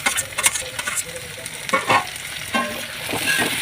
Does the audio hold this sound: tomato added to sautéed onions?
yes